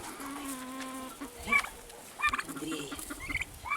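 Turkeys and chickens fill a farmyard where young chicks and turkeys are kept, with a steady high chirping followed by scattered clucks and gobbling calls at moderate distance, all fairly quiet.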